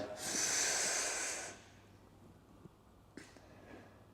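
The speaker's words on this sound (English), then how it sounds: "just inhaling, big deep breath" Deep breathing during a mobility exercise: one long, loud, close inhale lasting about a second and a half, followed by quieter soft breath sounds.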